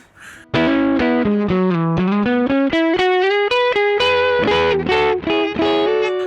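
Hagstrom Deuce F electric guitar with the neck pickup coil-split plays a quick run of single notes and double stops, bright and slightly crunchy, close and loud with no talking.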